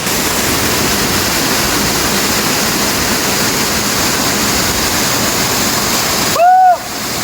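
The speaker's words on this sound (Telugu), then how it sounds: "వాటర్ ఫాల్ అయితే ముందుకి చాలా బాగా నీరు దూకుతున్నాయి" Steady roaring rush of Kushaloya waterfall in Parvathipuram Manyam, India, water plunging hard, fills the whole stretch, broad and constant, with a brief whistle-like chirp near the end.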